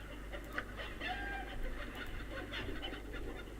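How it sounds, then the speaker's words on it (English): Chicken clucking from the video game Baldur's Gate, a few short squawky clucks over a steady low background hum, fairly faint and sitting in the game's ambient soundscape. "Love the chicken sound that still comes out with him"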